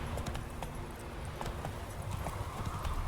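Horse hooves clip-clopping in the video game The Witcher 3, a steady run of close, distinct hoofbeats at a walking rhythm over a dense ambient background.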